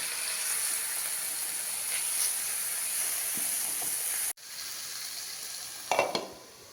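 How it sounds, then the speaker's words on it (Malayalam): Marinated chicken for Arabian alfaham sizzling steadily in a hot pan, a continuous close hiss that briefly cuts out, then resumes with a few louder crackling spurts near the end; no talking. "നമുക്ക് ഈ ചിക്കൻ ഇതിലേക്ക് വെച്ചെടുക്കാം കേട്ടോ. മാരിനേറ്റ് ചെയ്ത ചിക്കൻ കുറച്ച് വെച്ചോളൂ കേട്ടോ."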